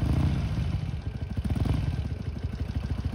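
A Harley-Davidson 883 motorcycle engine runs close by with a deep, loud, pulsing throb, its uneven firing beats swelling and easing slightly as the throttle is worked, with no talking.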